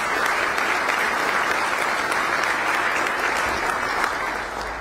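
An audience applauds sheriff's deputies serving Bexar County at a State of the County address, with dense, steady clapping from a large crowd that holds loud and even throughout before easing slightly at the end.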